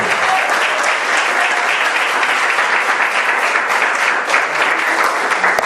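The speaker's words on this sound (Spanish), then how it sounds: "un aplauso al Rey de Gloria más fuerte" A church congregation claps for the King of Glory in a steady, loud, dense burst of applause that fills the room without pause from start to finish.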